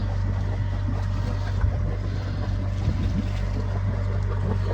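A motorboat's engine drones steadily and loudly as it heads into a harbour on the Peloponnese coast of Greece, a constant low hum with light wind buffeting the microphone and no talk.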